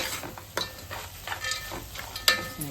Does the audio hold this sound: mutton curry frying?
yes